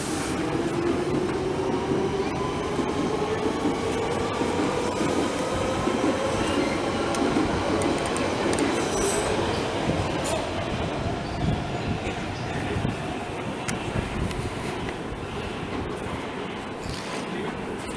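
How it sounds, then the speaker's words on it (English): A train pulls away from a station platform, its rumbling wheels and rising motor whine loud and steady throughout, with rail clatter and occasional squeals close by. "This train's just departing as well."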